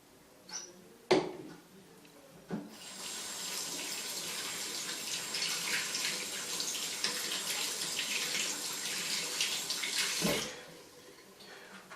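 Tap water runs steadily into a sink for several seconds while an enema cannula is rinsed, starting after a few clanks and stopping abruptly near the end.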